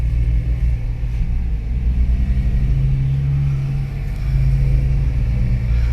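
A car engine revs steadily under load as the vehicle climbs a hill, a loud, continuous low rumble that stays close and rises slightly near the end, with no talking.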